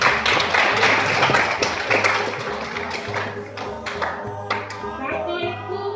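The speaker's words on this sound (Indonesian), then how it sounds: "Kasih tepuk tangan." A crowd of new students claps at an HIV/AIDS prevention outreach session in Paniai, Indonesia, with uneven clapping and hand taps that thin out toward the end, while a tonal hum and children's voices mix underneath.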